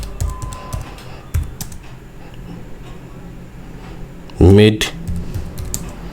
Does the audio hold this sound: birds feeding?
no